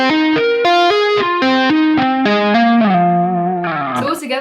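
Electric guitar with effects and distortion plays a slow descending lick with pull-offs, a steady run of clear picked notes stepping downward, loud and close, ending on a brief noisy squeal.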